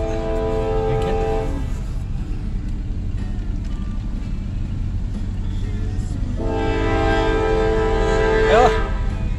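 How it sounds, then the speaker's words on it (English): A Norfolk Southern coal train rumbles steadily past with a deep, continuous roar, and a horn sounds twice, once early and again louder near the end. "That's a cool train, I believe."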